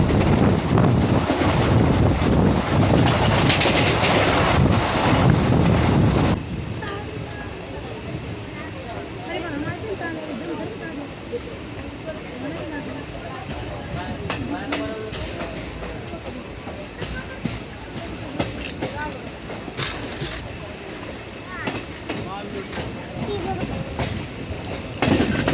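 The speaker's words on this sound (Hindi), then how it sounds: "तो दोस्तों अभी हमारी ट्रेन आ गई थी परतूर रेलवे स्टेशन पर।" A train runs between Osmanpur and Partur on the Parbhani–Jalna line, a loud wind-blasted roar at first, then steady rolling rumble with sharp clickety-clack knocks from the wheels, close and continuous.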